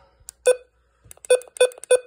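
Weather radio button presses giving short, bright electronic beeps, one alone and then a quick run of four evenly spaced beeps, close and clear with faint clicks.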